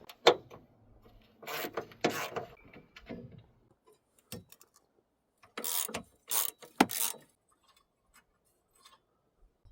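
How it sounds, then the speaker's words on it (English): A 10mm ratchet turning to loosen a car battery bolt and nut on a GMC Terrain or Chevy Equinox, with clustered bursts of quick clicking separated by quiet gaps, close up. "So we can take our 10mm and remove this bolt and this nut."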